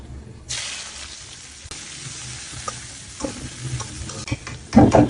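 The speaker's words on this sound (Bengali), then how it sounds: "পেঁয়াজ মরিচটা দিয়ে এখন ব্রাউন কালার করে ভেজে নিচ্ছি" Onions and chillies sizzle steadily in hot oil while a utensil stirs and scrapes the pan, growing louder with sharper crackles near the end as they brown.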